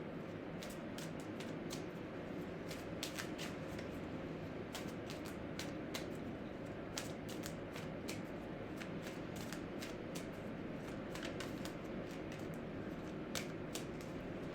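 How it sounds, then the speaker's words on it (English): Tarot cards are shuffled by hand in quiet, close, repeated soft riffles and slaps that run steadily throughout, with no talking. "I'm just going to get clarification and shuffle and get 2 more cards"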